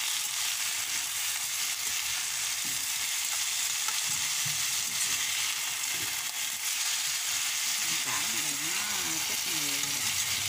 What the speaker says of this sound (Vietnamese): Xào cho bông cải nó thấm ăn mới ngon